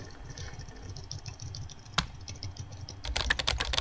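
Keyboard typing from the game Emily is Away: rapid, steady key clicks through most of the stretch, then a louder, denser burst of repeated key presses near the end as backspacing takes over.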